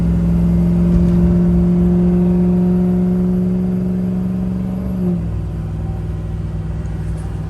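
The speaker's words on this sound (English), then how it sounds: "And I would call that like a normal acceleration." A Ford F350 pickup with a 6.0 Powerstroke diesel and aftermarket exhaust pulls a trailer under moderate acceleration, a steady close engine drone with rising harmonics that drops off after about five seconds into lower rumble.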